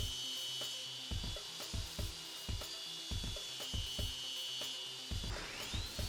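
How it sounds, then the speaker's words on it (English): A table saw cuts a cove into wood, feeding the board diagonally across a blade raised in shallow passes, giving a steady high whine with repeated rhythmic thumps and scraping bursts as the wood moves through, close up and alone. "A cove cut on the table saw means that the piece of wood travels diagonally across the blade."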